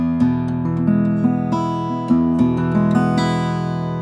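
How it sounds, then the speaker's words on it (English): Acoustic guitar with fresh phosphor bronze strings plucked with fingernails, a sustained fingerpicked passage of ringing, bright notes and chords played close and clear without talk. "So here's the sound of strings when you play with a nail and when they're fresh"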